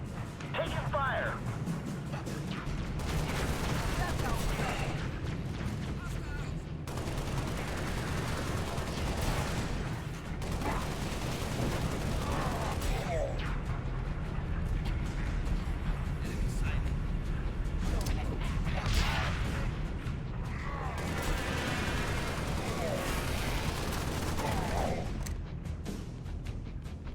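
Gunfire in the Halo: Spartan Assault video game rattles in repeated bursts and scattered shots over a dense game soundscape, with a player's voice talking over it at times.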